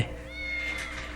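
A black cat meows in the video game IrisFall, one drawn-out, clear meow standing alone over a steady background tone.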